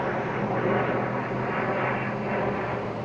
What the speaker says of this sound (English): That's the plane flying over